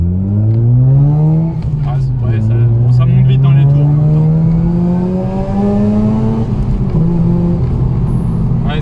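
A Mazda RX-8 with a 240 hp rotary engine pulls away and accelerates, its smooth buzzing note climbing steadily in pitch through the revs, loud and close from inside the car.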